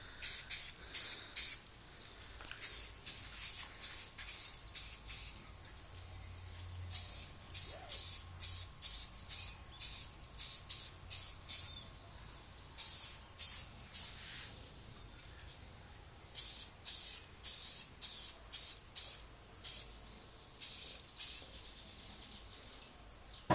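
Spray paint dusted in short strokes for a raw camouflage finish, heard as a series of brief repeated hissing bursts in an irregular rhythm with short pauses between them, close and fairly quiet.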